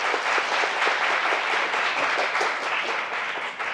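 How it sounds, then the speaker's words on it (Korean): An audience at a Seoul policy forum on elderly day care and home support gives sustained, enthusiastic applause, a steady wash of many hands clapping for several seconds, fairly close and full. "큰 박수 한번 부탁드리겠습니다"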